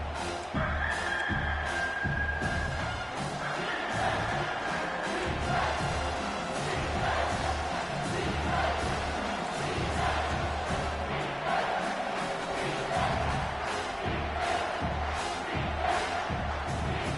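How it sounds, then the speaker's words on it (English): Stadium crowd in the college football video game NCAA 25 roars steadily on a third down, a dense, loud wall of cheering and yelling that holds for the whole stretch with swells and shouts on top. "this crowd will blow out a vocal cord to help this defense"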